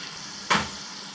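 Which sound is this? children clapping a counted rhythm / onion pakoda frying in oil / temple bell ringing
onion pakoda frying in oil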